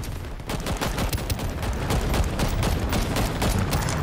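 Dense, continuous combat noise from the Shatterline co-op shooter, where a homing missile launches amid rapid overlapping gunfire and bursts that stay loud and busy the whole time.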